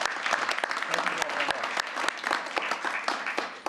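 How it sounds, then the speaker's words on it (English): A dense, steady round of applause from a crowd at a park and recreation board meeting, sharp individual claps standing out throughout, loud and close. "I think we should give them a round of applause"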